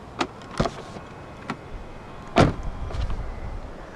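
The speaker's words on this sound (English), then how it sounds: "Upon opening the doors, the windows dip down a little bit to clear the door frame." A 2019 BMW i3s door being opened as its frameless window dips down, a few sharp mechanical clicks and a firm latch clunk, then a brief low motor whir, all close and without talk.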